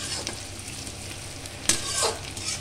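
Onion and green chilli fry in hot oil with panch phoron, giving a steady sizzle and crackle, broken up by a few scrapes and stirs in the pan.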